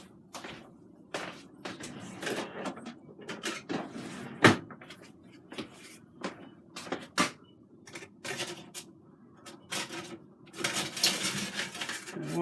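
A spatula scrapes and clinks against a plate as air-fried potatoes are served beside a lemon pepper ribeye steak, a string of quiet irregular taps and knocks in a kitchen, with one sharper clack midway.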